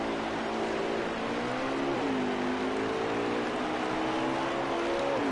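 Race car engine in a NASCAR Xfinity racing video game at New Hampshire, held at reduced throttle: a steady, moderately loud drone with a slight pitch dip midway, no talk.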